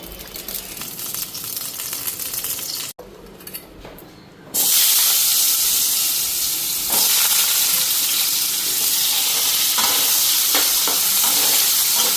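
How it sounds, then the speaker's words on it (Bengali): Loud, steady oil sizzle as eggplant fries close up, briefly quieting then surging back into a strong continuous hiss with occasional crackles. "তো এখন ভাজা নেবো।"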